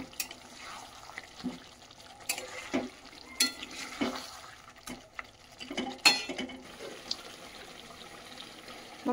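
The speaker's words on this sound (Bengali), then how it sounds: "গ্যাসের ফ্লেমটা মিডিয়ামে রেখে আমি এগুলোকে আস্তে আস্তে কষাতে থাকবো।" Chicken curry braising in a pan over a medium flame, with a faint low sizzle under scattered soft scrapes and knocks of a spoon stirring against the pan.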